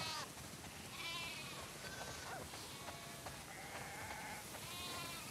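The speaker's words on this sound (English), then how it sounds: "Wow, that's a lot of sheep." Many sheep bleat in overlapping calls on a farm in the video game The Last of Us Part 2, steady and moderately loud over a dense ambient bed.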